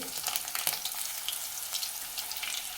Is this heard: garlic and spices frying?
yes